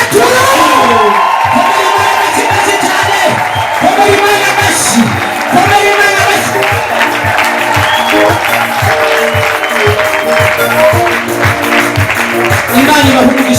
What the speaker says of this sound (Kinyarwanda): Hesabu mara tatu mpigie Mungu makofi